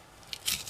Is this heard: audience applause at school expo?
no